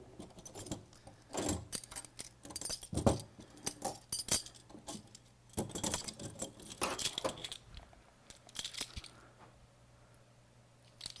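Metal clamps are picked up and handled in a workshop while building a vehicle chassis, giving bursts of sharp jangling clinks and clanks with quiet gaps between them.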